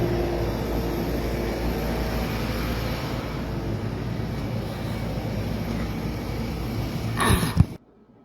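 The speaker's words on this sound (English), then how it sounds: "You'll hear the planes in the background." Airplanes drone in the background as a broad, steady engine rumble that holds level throughout, swells briefly and then cuts off abruptly at the end.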